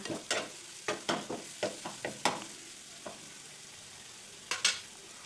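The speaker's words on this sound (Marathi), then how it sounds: "मसाला आपल्याला छान असं फ्राय करून घ्यायचा आहे." Garam masala and turmeric fry in hot oil in a pan while being stirred, a soft steady sizzle broken by repeated sharp scraping strokes of a spoon, close by.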